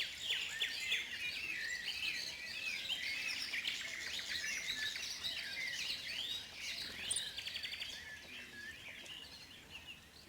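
Many birds chirp and tweet nonstop in a dense, lively chorus, bright and fairly close, with no voices.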